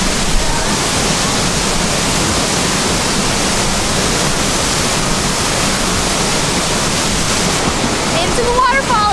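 Loud, roaring rush of a waterfall, constant and close, filling the whole stretch with thick white-noise churn and no pauses.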